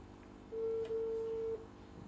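A single steady telephone keypad tone, about a second long and faint over background hiss, as a call is placed.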